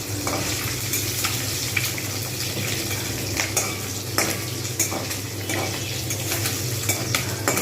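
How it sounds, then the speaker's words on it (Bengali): Hilsa fish frying in hot oil for a spicy mustard-oil curry, a steady close sizzle with occasional clinks and scrapes of a spatula against the pan throughout. "এক পিঠ সুন্দর করে লাল করে ভেজে নেবো"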